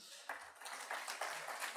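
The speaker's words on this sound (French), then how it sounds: "que je demande d'applaudir, merci." Faint, distant applause from an audience greeting a panelist at a geopolitics round table, a steady patter of clapping with loose rhythmic pulses lasting under two seconds.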